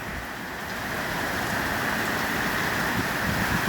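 Wind-driven rain lashing down in a violent storm at Charters Towers, a dense, steady hiss of heavy rain with gusty roar, close and loud throughout, no talking.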